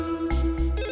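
A landline telephone rings with a steady electronic trill that pulses in short beats, fairly loud and alone.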